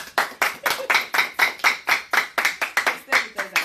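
A live audience at an evening conversation event with presidential candidate Omoyele Sowore claps in a sparse, uneven rhythm of distinct, fairly close hand claps, a small crowd rather than a roaring ovation.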